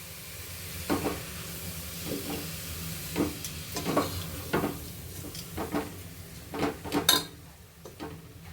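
Vangibath ingredients are mixed and fried in a pan, a low sizzle under irregular scraping and clinking strokes of a utensil against the pan, close and moderately quiet, no voices.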